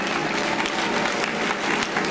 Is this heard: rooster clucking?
no